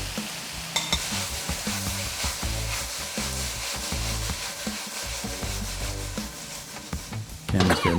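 Peppers, onions and sugar cooking in a pan for a spicy pepper chutney, a steady close sizzle with repeated scraping and rubbing strokes as the mixture is stirred, a louder burst of frying near the end.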